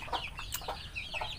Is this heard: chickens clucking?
yes